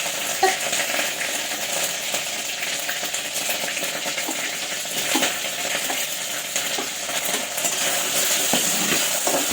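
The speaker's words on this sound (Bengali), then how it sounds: "এত ফুটছে" Bottle gourd curry bubbling and sizzling steadily in a pan, a close, continuous frying hiss with faint scattered clinks of utensils and no talking.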